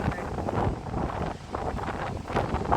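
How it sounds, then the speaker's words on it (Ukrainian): Strong gusting storm wind by the sea in Odesa roars continuously across the microphone, loud and buffeting, with surging bursts and no voices. "Вітер скажений."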